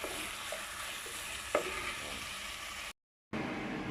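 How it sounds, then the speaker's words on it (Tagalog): Onion and garlic sautéing in olive oil, a close, even sizzle with a few scraping stirs and one sharp clink, broken by a brief silent gap before the frying resumes. "Para magigisa natin yung sibuyas at saka bawang."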